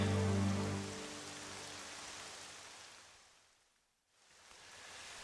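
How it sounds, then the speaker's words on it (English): Steady rain falls in the video game The Legend of Zelda: Twilight Princess HD at Hyrule Castle, a continuous hiss that fades out near the end and then returns. "now is an endless rain."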